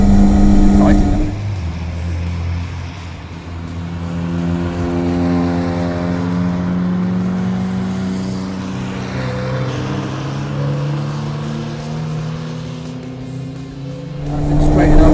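Supercar engine on the Three Sisters race track in Wigan, droning steadily with rising harmonic tones as it accelerates at full speed, loud and close throughout, with a person speaking over it.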